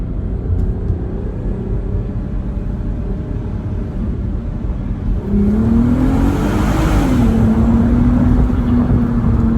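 A 2005 Audi TT Quattro 250hp VR6 engine drones steadily, then surges louder and rises in pitch as it accelerates, the roar echoing and swelling inside a tunnel.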